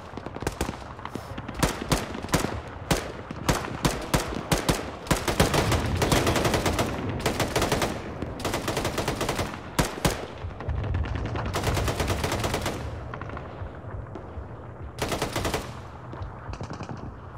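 Loud, close automatic gunfire in the military shooter Arma 3, dense rapid bursts with short gaps, some sustained fusillades and a few isolated shots, no voices.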